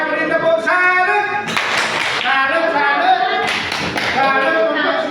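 Rhythmic group clapping in a classroom quiz session, bursts of claps alternating with sustained voices chanting or singing together, close and fairly loud.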